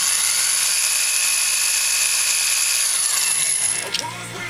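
A power drill bores out the wheel posts on a Nissan Skyline, a loud, steady high-pitched whine that runs continuously and then winds down near the end.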